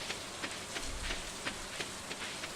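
Steady rain falls on a farm in the video game Stardew Valley, an even hiss of drops with soft periodic patters, no voices over it.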